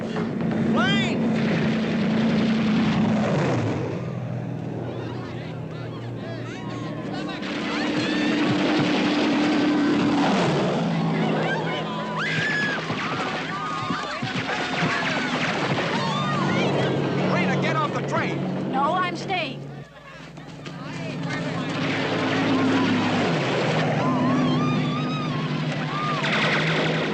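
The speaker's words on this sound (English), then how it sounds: "Plane!" A propeller airplane passes overhead above restless horses, its engine drone rising and falling in long sweeps over nearly half a minute, with voices talking underneath.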